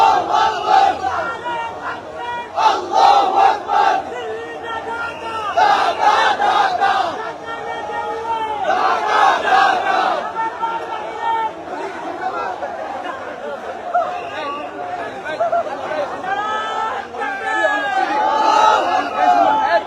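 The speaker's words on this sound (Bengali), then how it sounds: "স্লোগানে স্লোগানে মুখরিত করছে" A large protest crowd chants slogans together in loud, rhythmic unison, the mass of voices near and continuous with rising and falling shouted phrases throughout.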